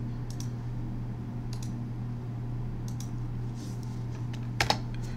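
Sparse keystrokes on a computer keyboard entering a command to install Pygame and SciPy on a Raspberry Pi, a few isolated clicks over a steady low hum with a sharper burst near the end.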